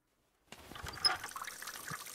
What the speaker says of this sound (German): Kann ich jetzt hier Wasser reinfüllen?